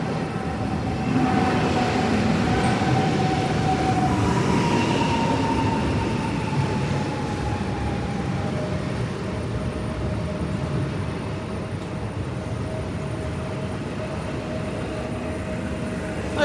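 A passenger train rolls past a Polish railway platform on a cold day, a continuous rumble and wheel noise holding steady and close throughout, with a faint high squeal from the wheels.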